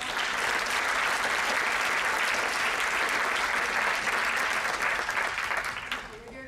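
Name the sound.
audience round of applause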